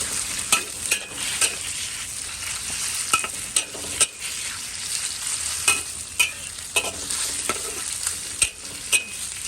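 Pork stir-frying over high heat in a pan, for a Thai dish of pork with garlic stems and leeks; a loud, steady sizzle broken by regular sharp spatula scrapes and clacks, close up with no talking.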